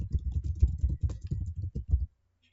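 Fingers tap out a customer name on a computer keyboard in a burst of quick, close keystrokes lasting about two seconds, then silence.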